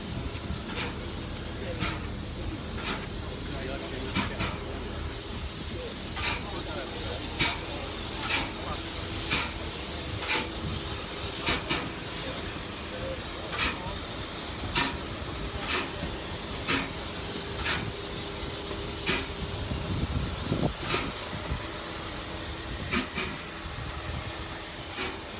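A steam locomotive hisses loudly just a couple of feet away: a continuous rushing hiss cut by regular sharp bursts of escaping steam, with a voice or two underneath.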